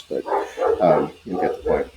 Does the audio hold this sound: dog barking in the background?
yes